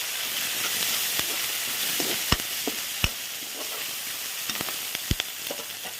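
Ginger paste and curry leaves sizzling in hot oil for mutton boti fry, a steady hissing crackle with scattered sharp pops and spatula taps, close and unaccompanied by speech.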